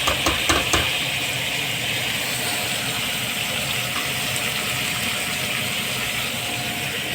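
Onion stalks and chopped onion sizzling with garlic in a hot pan, a steady loud hiss and crackle that holds evenly throughout, with a few clinks near the start.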